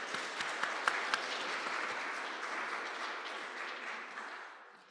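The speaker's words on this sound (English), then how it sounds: "So we should give them a round of applause" Audience at a business plan competition applauds the judges, a sustained round of clapping at moderate distance with a few sharper claps early on, slowly tapering toward the end.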